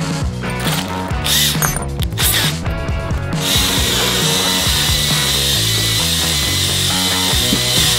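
A loud, continuous power drill bores into a wooden beam with a rough, rattling churn, close up and steady throughout, while building a treehouse.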